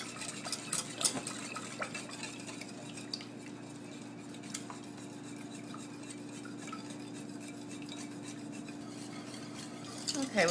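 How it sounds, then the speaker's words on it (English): A spoon stirs pecan coconut frosting with melted butter, sugar and egg yolks in a pot, soft continuous scraping and clinking against the pot under a low steady hum. "we want to stir this until it begins to thicken"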